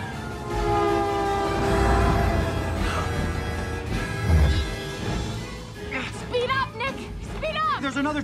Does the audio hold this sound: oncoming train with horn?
yes